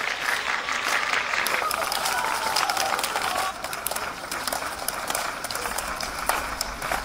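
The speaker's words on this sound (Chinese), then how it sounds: "大家鼓掌。" A group at a military honor guard training ground claps in a dense, lively burst of applause that stays loud and steady throughout, easing slightly about halfway through.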